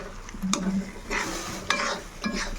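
Cashew paneer curry frying and being stirred in a pan, with repeated scraping strokes over a steady sizzle, close and moderately loud, without any talking.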